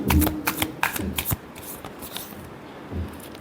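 Tarot cards being shuffled in quick riffling bursts, loudest in the first second and a half, then quieter rustling with a brief flurry near the end.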